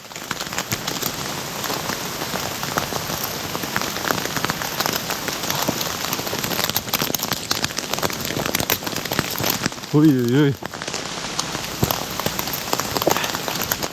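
Hail and rain pelt steadily on a tent during a hard outdoor trek, a dense continuous drumming throughout, with one brief exclamation from a voice partway through.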